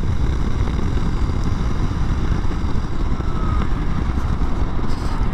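A 2021 Honda CRF300L Rally ABS motorcycle engine runs on a gravel road, a steady close rumble mixed with rushing wind noise throughout, with no talking.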